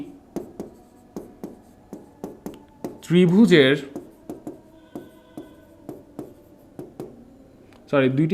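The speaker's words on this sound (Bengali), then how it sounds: "সো আমরা আবার লিখি, এটা কথাটা আবার লিখি।" Pen or chalk strokes on a board during a Class 9-10 trigonometry math lesson, a steady run of short, regular taps and scrapes, interrupted twice by a brief burst of a teacher's speech.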